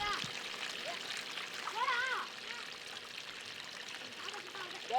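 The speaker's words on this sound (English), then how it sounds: "Add some water to help break up the soil." Water is poured onto dug-out soil spread on a plastic sheet, making a faint, steady trickle and splash. Soft chirping calls and distant voices sit in the background.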